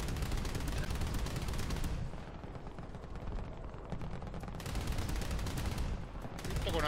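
Heavy gunfire from a War Thunder battle with Italian vehicles, loud and dense throughout with sustained bursts and rapid volleys that ease briefly midway before building again, no talk over it.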